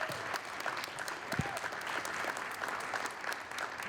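An audience at a community meeting applauds: steady clapping from many hands, sustained throughout at moderate volume, with a faint voice underneath.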